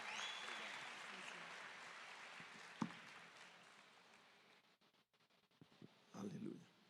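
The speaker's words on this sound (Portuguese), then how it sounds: "Uma salva de palmas, igreja." A church congregation breaks into sustained, dense applause that fills most of the stretch, then thins and fades into quieter room sound with a few scattered claps and a short burst near the end.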